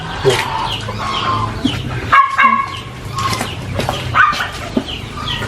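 Chickens cluck repeatedly at close range in a busy farmyard, with a few sharper squawks and some faint background clatter.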